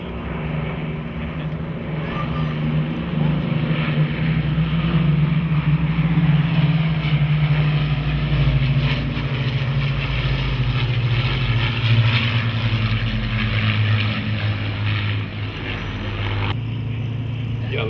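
A Battle of Britain Memorial Flight propeller warplane passes at the Duxford Flying Legends airshow, a loud sustained engine drone swelling and sliding lower in pitch as it goes by, with faint crowd murmur beneath.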